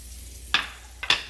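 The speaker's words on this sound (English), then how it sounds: "So as this butter melts, you want to kind of scrape off all this stuff." Butter melts and sizzles in a pan after shrimp were cooked in it, a faint low sizzle under two quick scraping strokes of a utensil across the pan.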